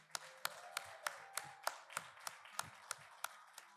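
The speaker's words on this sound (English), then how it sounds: "And let's give each of our three honorees another round of applause," A single pair of hands claps in a slow, even rhythm, about a dozen distinct claps, faint and close, honoring three women at an International Women's Forum gathering.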